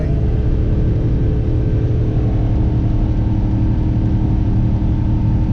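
A 2004 Chevrolet 2500HD pickup with the 6.0 gas V8 at 195,000 miles, under heavy throttle while towing a small trailer up mountain grades: a steady, loud low engine drone and road rumble from inside the cab, unbroken throughout.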